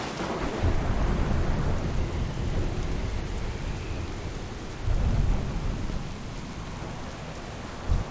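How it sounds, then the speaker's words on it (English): Thunderstorm in the video game World of Warcraft, with loud rolling thunder and steady heavy rain filling the whole stretch, a fresh rumble swelling near the middle and a brief jolt close to the end. "Warlord, this storm will soon overwhelm us."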